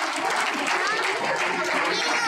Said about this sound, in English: Again, a big round of applause for our sponsors.